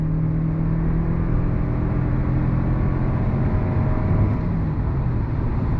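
A 2022 Toyota Avalon Hybrid sedan accelerates in sport mode, heard from inside as a loud, steady engine drone with road and wind noise that swells slightly partway through.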